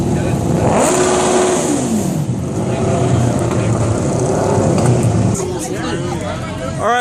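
Motorcycle engines rev loudly in a street, rising and falling over a steady rumble, with crowd chatter and voices mixed in throughout.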